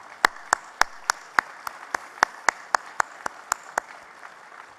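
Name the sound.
audience round of applause at breakfast event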